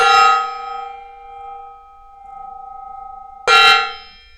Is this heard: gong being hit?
yes